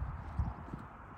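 Horse hooves at a riding event clip-clop in a few soft, irregular thuds close by, under a low background murmur.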